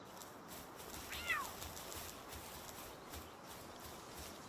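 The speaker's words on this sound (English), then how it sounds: "You're a cat." A cat creature in the Palworld video game gives a single short, rising-and-falling meow near the middle, standing out over a steady background hum of game ambience.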